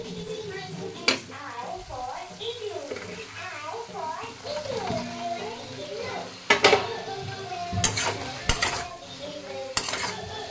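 Fried potato and taro pieces being mixed into a frying masala, with soft sizzling, stirring, and pan and utensil clinks, while a voice talks over it.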